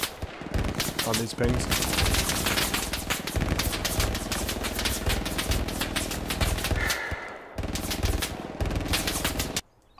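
Sustained machine gun fire rattles nearly nonstop in the World War II shooter Hell Let Loose, loud and close with brief pauses, while a player speaks briefly over the bursts.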